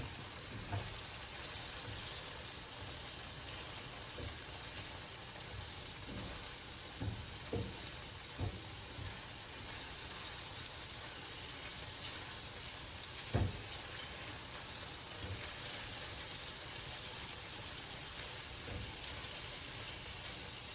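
Shrimp for scampi frying in a pan, a steady broadband sizzle like light rain running throughout, with a few soft clicks and clanks of tongs as pieces are flipped, and one sharper knock near the middle.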